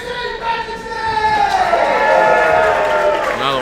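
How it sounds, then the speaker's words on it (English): At a CCW independent wrestling show, a crowd cheers and shouts in a loud, continuous roar that builds and holds, with voices and whoops rising over it. "the fans are going to cheer him on any match that comes to pass"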